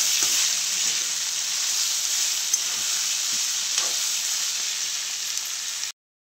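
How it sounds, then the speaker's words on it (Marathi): Rice cooking in a kadhai gives a steady, close sizzling hiss that runs unbroken for about six seconds, with faint stirring scrapes, and then cuts off abruptly. "इकडे कढईमध्ये भात करून घेते"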